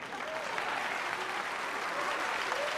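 A crowd claps steadily and evenly, a dense wash of applause filling the room throughout.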